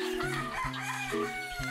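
Roosters crow repeatedly among a flock of chickens in Davao, several long, loud, overlapping calls with rhythmic harmonic pulses, close by and alone without talk.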